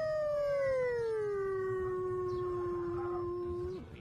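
A large Siberian wolf gives one long, loud, close howl that starts high, slides slowly down to a steady tone and cuts off after about four seconds.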